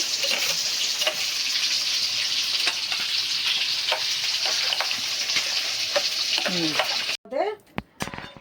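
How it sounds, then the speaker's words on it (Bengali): A yogurt mixture poured into hot oil tempered with nigella seeds fries with a loud, steady crackling sizzle. The sizzle cuts off near the end, leaving a few scraping stirs and splashes. "কালো জিরে ফোড়ন দিয়ে আমি এই জিনিসটা সব ওই তেলের মধ্যে ঢেলে দিয়েছি।"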